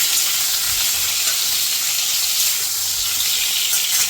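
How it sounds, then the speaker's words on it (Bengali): Pointed gourd (potol) frying in hot oil, a dense continuous sizzle and hiss, loud and close, with no talking. "তেল গরম হয়ে গেছে, এবার পটলগুলো আমি ছেড়ে দিচ্ছি। এটা লাল করে ভেজে নেব।"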